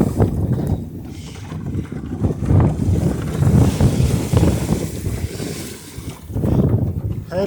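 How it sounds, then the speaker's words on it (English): Boat traffic moves on open water at high tide during breezy sailing weather, heard from a small boat: a steady low rumble of engines and water with gusting wind buffeting the microphone throughout. "there's a bit of boat traffic out and about, creeping up on high tide, and just gorgeous sailing conditions out here"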